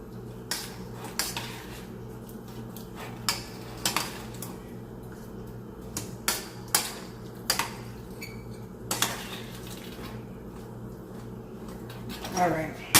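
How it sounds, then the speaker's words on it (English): Spoon scraping and clinking against a cooking pot of seasoned food on a home stove, a series of sharp metallic taps and scrapes spaced about a second apart, close and moderately loud, with a low kitchen hum beneath. "I'm gonna stir this up."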